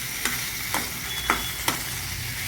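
Spiced potato slices stirred in a pan, a close steady sizzle broken by four evenly spaced scraping strokes of a spoon across the pan, with no talking.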